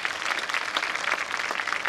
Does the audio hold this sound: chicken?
no